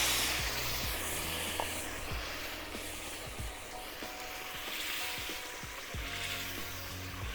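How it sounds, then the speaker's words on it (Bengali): Chicken curry poured over spices fried red in a pan for chicken kosha, giving a steady broad sizzle and hiss that stays even throughout, with faint clinks of utensils. "এবার আমি তরকারিটাও ঢেলে দেব।"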